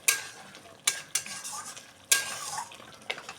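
Fish kaliya curry masala being stirred in a pan, with spoon scrapes and metallic clinks against the pan at uneven intervals over a low sizzle, close and fairly quiet.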